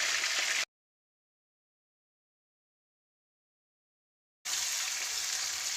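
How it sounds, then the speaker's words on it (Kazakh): Meat and chopped onions fry in a pan for a smoked-meat pilaf, a bright hiss of sizzling that cuts out into silence for several seconds before resuming just as steady. "4-5 минут қуырғаннан кейін оған 3-4 бас пиязды турап бірге салып қуырамыз."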